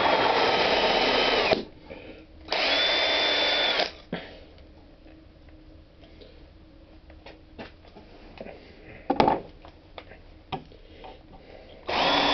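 A power drill enlarges bolt holes in an aluminum solar panel frame in two loud, close bursts of whirring about a second long each, followed by quieter handling clanks and taps.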